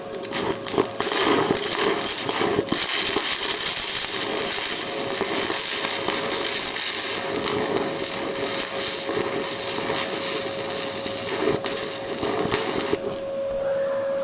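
Stick welding with an aluminum electrode on aluminum gives a loud, continuous crackling and sputtering buzz with a steady whine, running unbroken until it stops abruptly near the end.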